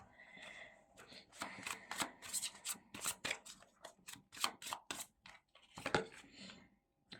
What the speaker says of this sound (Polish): Ja wezmę jeszcze jedną kartę.